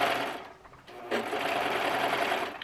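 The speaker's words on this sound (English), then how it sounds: "I'm just serging all of my raw edges together." A serger sewing machine runs along raw fabric edges, a close, loud, steady whirring stitch that stops briefly twice before running on.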